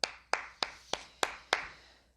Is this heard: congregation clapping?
yes